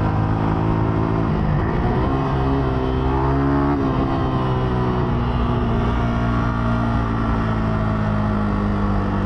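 A 2023 Yamaha R125 125cc sport motorcycle roars steadily on the road at speed, its engine revving up through the gears in a loud, continuous drone with rising and falling pitch and no talking.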